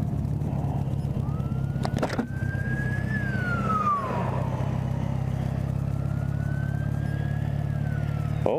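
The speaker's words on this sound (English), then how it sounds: "a lot of emergency vehicles." Emergency vehicle sirens wail at a distance during a grocery errand in an arctic vortex, one rising and falling tone sweeping across over a steady low rumble of traffic, with a second siren cycle following later.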